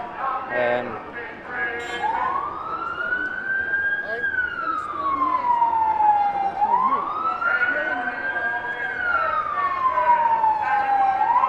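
A police siren wails in long rising and falling sweeps, loud and fairly close, over a steady background of traffic noise at a protest in London, June 2021.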